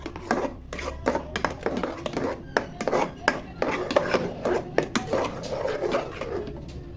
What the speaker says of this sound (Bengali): এখন আমি নাড়াচাড়া করব এবং ঘি দিয়ে হালুয়াটা ভাজতে থাকবো